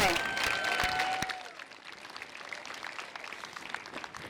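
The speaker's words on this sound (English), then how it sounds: "Let's give one big round of applause for all of the graduating class of 2021." Applause for a graduating 2021 eighth-grade class fills a school ceremony hall, loud at first and then fading to a scattered patter of clapping. A whistle or cheer sounds near the start.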